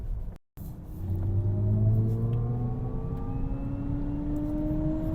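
An Alpine A290 GTS electric car accelerates on the road, its motor whine climbing steadily in pitch over a low road rumble after a brief dropout at the start, close and continuous.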